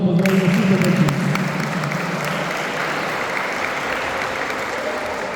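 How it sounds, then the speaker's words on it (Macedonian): An audience applauds the children at the closing ceremony of a memorial youth football tournament. The clapping is steady and fairly dense, with a low hum beneath at first, and no voices over it. "Ве замолувам за голем аплауз да ги поздравиме сите деца"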